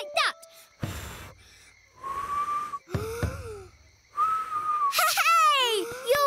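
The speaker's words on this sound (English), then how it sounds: "Hey! You're whistling!" A cartoon lion cub whistles in several short, rising and falling tones. Each whistle comes in its own burst, broken up by a child-like voice and other cartoon noises.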